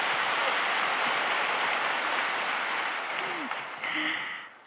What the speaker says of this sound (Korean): 박수 쳐주실 건가요?